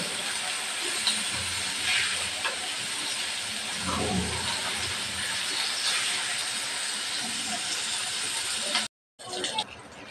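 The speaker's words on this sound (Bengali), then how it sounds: "মাছগুলো একবার ভাজা হয়ে গেছে, উল্টিয়ে নেব।" Fish sizzling in hot mustard oil after being flipped, a steady close frying hiss that runs throughout and cuts out briefly near the end, with a voice talking faintly underneath.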